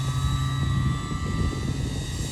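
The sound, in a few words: E-Flite Twin Timber RC plane motor flying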